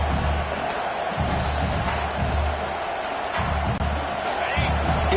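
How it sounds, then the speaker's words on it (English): A stadium crowd roars at a college football game between Notre Dame and Texas A&M: a loud, sustained wall of cheering with rhythmic low thumps underneath, and a commentator talking over it. "It's early, but this crowd is fired up. Listen to this noise here."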